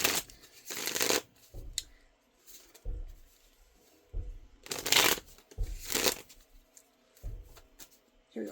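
A deck of tarot cards is shuffled in several brisk riffling bursts, close and crisp, separated by short pauses and softer handling.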